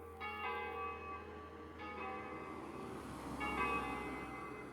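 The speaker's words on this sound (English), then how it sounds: "It's a church bell there." A distant church bell in Italy tolls with a long ringing decay, three strikes spaced slowly apart over a steady low background hum.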